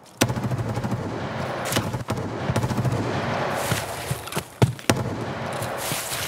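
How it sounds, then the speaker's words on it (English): Gunfire in a shooting video game: a dense, noisy battle bed broken by several sharp, loud shots at irregular intervals, with distant-sounding bursts in between. "Is that him firing?"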